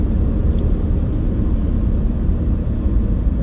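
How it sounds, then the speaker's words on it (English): Road traffic on the east side of Las Vegas near Stewart, by a desert-themed noise wall: a steady, loud low rumble of passing and idling vehicles with no clear breaks, and nobody speaking. "And this is the problem when you have a whole bunch of traffic like this that has to sit and wait for right turn on red."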